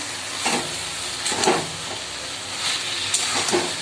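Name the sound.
sautéing ash gourd greens in oil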